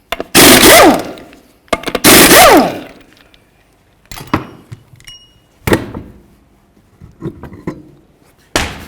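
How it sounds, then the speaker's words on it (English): Tools working on the 19mm lug nuts of a 2008-12 Jeep Liberty, with two loud whirring bursts from a power tool, then scattered clanks and metallic knocks, close up and without talking. "One of the first things we have to do is remove our 5 19mm lug nuts"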